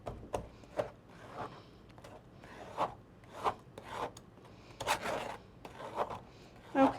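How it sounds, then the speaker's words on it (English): Smashed berries pushed and scraped through a chinois sieve with a whisk, giving repeated soft rasping, rubbing strokes in an irregular rhythm, close up and fairly quiet with no talking. "smash those berries up a little bit with your whisk and then just push them through the sieve, the chinois like I'm doing here"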